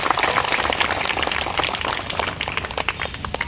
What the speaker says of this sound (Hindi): एक जूही सरकार के लिए जोरदार ताली।